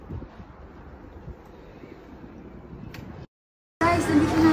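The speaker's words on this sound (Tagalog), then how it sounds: "sobrang lamig, sobrang tapas ng hangin" Strong cold wind roars steadily into the microphone outdoors, then cuts out briefly before returning louder and harsher.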